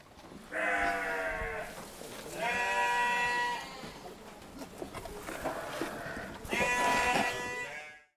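Sheep on a sheep farm bleating in three loud, drawn-out calls, each lasting about a second, close by over quiet background noise.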